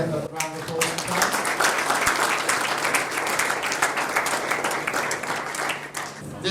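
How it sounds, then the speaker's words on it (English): An audience at an awards night applauds a player receiving an award, a sustained burst of dense clapping from a crowd that fills the room with a few scattered louder claps. "Can we give a round of applause for Kai?"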